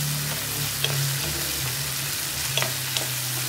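Sliced chicken frying in a pan for pancit canton, a steady close sizzle with a low hum underneath and a few faint clicks of a utensil, no talking.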